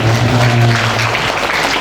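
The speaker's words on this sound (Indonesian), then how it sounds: "Oke, tepuk tangannya mana?" An audience at a school Ramadan opening event in Indonesia claps together, a dense loud wash of applause filling the short moment.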